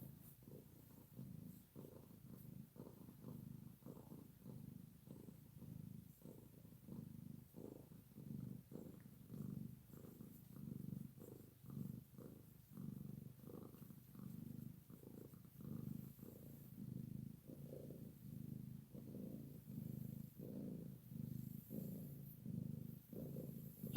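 A cat purrs steadily while being petted, a soft, close, rhythmic rumble pulsing with each breath for the whole stretch, quiet and without talk.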